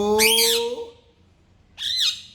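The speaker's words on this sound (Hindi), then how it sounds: "तोते के बच्चे देख गुस्सा।" A pet parrot chick gives two harsh, loud squawks close up, the first long and rising, the second shorter after a brief pause.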